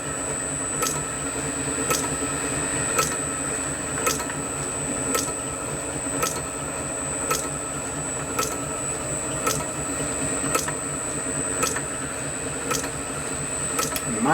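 A hand scraper works a steam oscillating engine cylinder in steady repeated strokes, each pass a short sharp scrape recurring about every second, close up over a constant mechanical hum.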